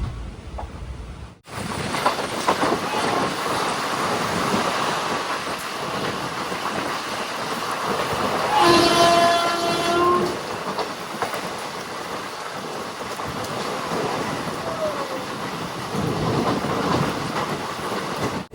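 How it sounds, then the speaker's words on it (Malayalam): A passenger train rolls into Pollachi Junction with a steady loud rumble and rattle of wagons, a brief horn-like tone partway through, the noise continuous and close throughout. "ട്രെയിൻ ഇപ്പോൾ പൊള്ളാച്ചി ജംഗ്ഷനിലേക്ക് എത്തുകയാണ്"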